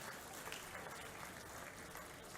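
A ceremony audience at an Independence Day flag-hoisting function applauds, a steady wash of clapping that stays even and fairly faint throughout.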